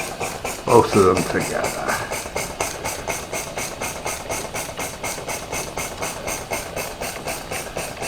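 Two small model oscillating steam engines run together on steam from a gas-fired boiler, making a fast, even chuffing and ticking rhythm close by, with someone speaking briefly near the start.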